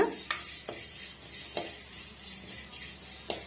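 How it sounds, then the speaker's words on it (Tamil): Mushrooms fry in a pan over a medium flame for a mushroom gravy, a steady soft sizzle broken by a few sharp scrapes and clinks of a stirring spoon against the pan, close and unaccompanied by talk. "மீடியமான ஃப்ளேமில் வச்சு இதை வந்து நம்ம வறுத்து விட்டுக்கலாம்"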